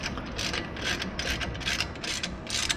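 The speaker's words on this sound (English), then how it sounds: "to remove the caliper, you need an 18 millimeter socket" An 18 mm socket ratchet loosens brake caliper bolts on a 2002 Chevy Silverado during a front end rebuild, giving a steady run of rapid, close clicking bursts at moderate loudness with no talk.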